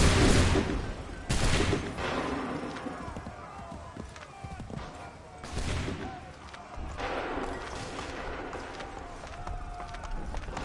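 Musket volleys in Assassin's Creed 3, several loud booming bursts of massed gunfire spaced a few seconds apart, with shouted commands and battle noise between them.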